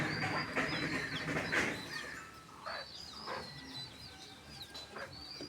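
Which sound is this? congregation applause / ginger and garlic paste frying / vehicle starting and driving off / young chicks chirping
young chicks chirping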